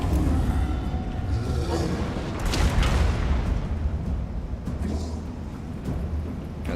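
Artillery in a Total War: Warhammer battle fires repeatedly as booming, distant-sounding blasts within a constant rumbling roar of combat, with a heavier cluster of shots near the middle.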